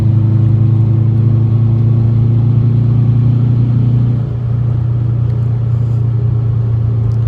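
Steady, loud engine and exhaust drone from a 2005 Subaru Legacy GT turbo driven on the highway, a deep rumble that holds even and then shifts slightly in tone midway as the load eases, with no voices.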